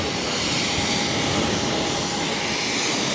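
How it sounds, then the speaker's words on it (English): A Japan Airlines Boeing 787 Dreamliner taxiing toward runway 22 Left at Boston Logan, heard as a loud, continuous broadband jet-engine roar with a faint steady whine, unchanging across the clip and free of speech. "We have the Japan Airlines Dreamliner taxiing over to 22 left for takeoff to Tokyo Narita"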